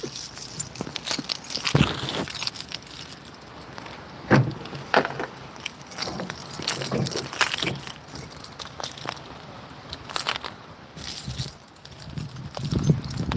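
Keys jangle and rattle repeatedly at close range, with scattered handling clatter and rustling from a bag in between.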